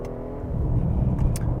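The engine of a 2020 Genesis G90 luxury sedan, shifted by paddle shifters, hums steadily from inside the cabin, and the revs swell briefly as the gear changes, with no talking.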